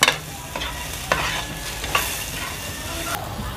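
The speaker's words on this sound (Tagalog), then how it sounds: "Lagay natin ang luya, pampaalis ng lansa ng ating dugo." Ginger hitting a hot pan for dinuguan, with an immediate loud sizzle that settles into a steady hiss, punctuated by a few sharp utensil scrapes and taps.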